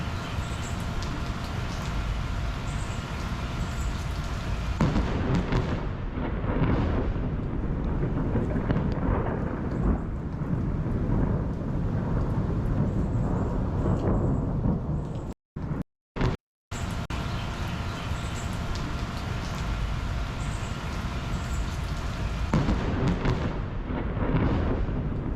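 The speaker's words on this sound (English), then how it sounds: "There's all sorts of lightning videos in here, but, like, some of them are like this." Thunderstorm with lightning, deep rolling thunder rumbling loudly and continuously, with a brief dropout partway through before the rumble resumes.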